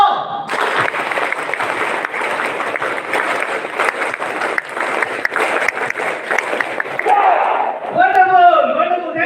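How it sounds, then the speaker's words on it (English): A youth audience at an empowerment programme in Shillong claps together after a count, a loud, steady burst of applause with a few shouts, fading as a voice begins speaking near the end. "As soon as I count 1, 2, 3, 4, and then we'll start the applause."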